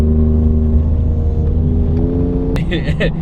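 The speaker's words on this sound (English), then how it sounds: "It's a little V6 trying to spin." A V6 pickup truck engine, near a lifted 2016 Ford F-150, hums steadily with a deep, even drone. Near the end the pitch rises briefly, and voices seem to join.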